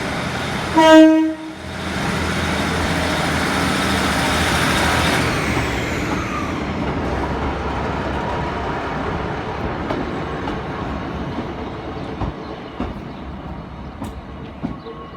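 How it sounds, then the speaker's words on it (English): A departing train at Exeter St David's on a Sunday evening sounds a loud two-tone horn near the start, followed by a building, sustained rumble and clatter of the train pulling away. "Nice two-tone by the driver as the train goes out"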